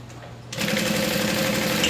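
A home sewing machine stitches fabric around a curve, starting up partway through and then running fast and steady, loud and close, with no talk.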